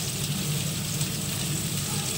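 Paneer pieces and poppy seeds with green chillies frying in oil in a pan give a steady, close crackling sizzle that holds evenly throughout with no talking.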